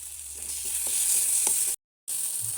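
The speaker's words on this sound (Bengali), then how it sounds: "আদা বাটা দিয়ে কিছুক্ষণ কষতে থাকবে" Spices with garlic paste, ginger paste, bay leaf and turmeric fry in a pan, a soft, even sizzle with a few light stirring taps, then a short silent cut before the frying resumes.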